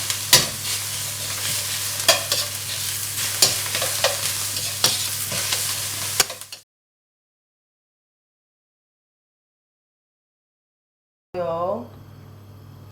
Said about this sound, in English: Coat the wok. Stir fry for about a minute and take out.